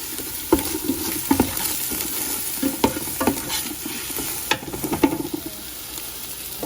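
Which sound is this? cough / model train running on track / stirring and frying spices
stirring and frying spices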